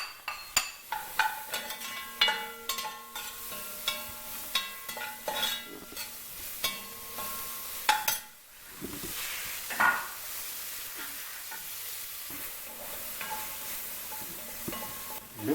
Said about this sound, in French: Les oignons ont bien sué pendant 3-4 minutes